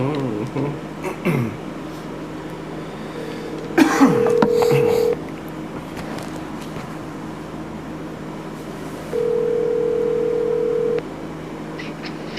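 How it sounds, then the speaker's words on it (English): A telephone call is being placed, and two long, steady ringing tones sound a few seconds apart. A cough or throat clearing and some faint background noise are heard before them. "Let's get Ronnie on the phone so he can hear the rules."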